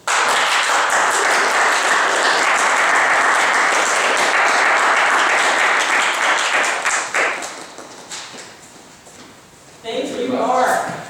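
Audience applause for a business coach finishing his talk fills the room loudly and steadily for about seven seconds, then thins out and fades, with a voice speaking near the end.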